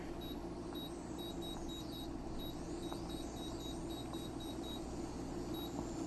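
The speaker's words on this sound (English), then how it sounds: "set the timer" A kitchen timer, set while bucatini pasta cooks, gives a run of short, high electronic beeps at a steady pace, faint over a constant low hum, with no talk.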